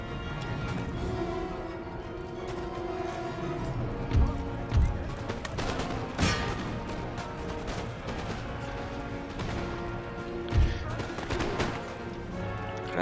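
Musket volleys in an Empire: Total War battle, rendered as a steady dense clatter of distant gunfire with a few louder close shots standing out over continuous battle noise.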